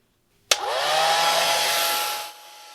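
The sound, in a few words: hair dryer drying watercolor paintings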